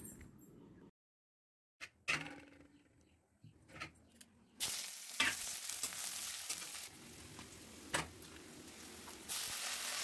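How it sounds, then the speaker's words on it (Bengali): Potatoes and pointed gourd sautéing in a pan, with stretches of steady broadband sizzle broken by a silent gap and scraping stir noises, growing louder and denser toward the end. "এদিকে আলু পটলটা ভালো করে কষিয়ে নিচ্ছি"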